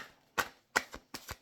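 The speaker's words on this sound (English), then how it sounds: "Two more shuffles or a flyer." A deck of tarot cards is shuffled in four or five short, crisp riffling bursts separated by brief pauses, close and quiet.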